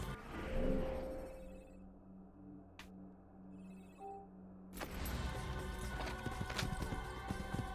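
Horse hooves clip-clop as a rider travels in Assassin's Creed. The footfalls are rhythmic but faint at first, with a brief whinny-like tone. A louder, busier stretch of galloping and game noise follows in the second half.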